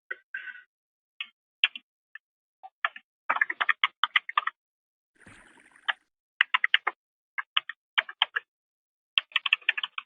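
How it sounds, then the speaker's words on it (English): Keys clack on a computer keyboard in quick irregular bursts of typing with short pauses between, close and fairly clear, with one brief soft rustle midway and no talking. "He's like typing stuff in over there."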